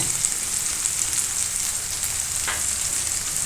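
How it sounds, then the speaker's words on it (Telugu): Brinjal pieces frying in hot oil with salt and turmeric, a steady crackling sizzle that runs evenly throughout at moderate level with one brief scrape partway through and no talk. "ఆయిల్ వేసుకున్నాం కదా ఇప్పుడు వేపేసుకున్నాం వంకాయలు వేపుతున్నాం కదా"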